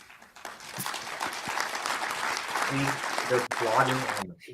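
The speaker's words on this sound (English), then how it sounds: "He gets a polite applause." A burst of polite applause from an audience, steady clapping for a few seconds with some voices mixed in, then cutting off.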